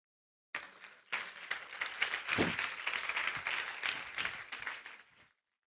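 Women in a church congregation at a Sunday morning service applaud together, a dense burst of clapping that starts abruptly, swells, holds for several seconds and then tapers off into silence.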